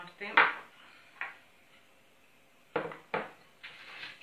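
Honey and butter mixed by hand in a bowl for a cheese, chocolate and raisin Easter bread, with a few close clinks and dull knocks against the bowl separated by quiet scraping pauses.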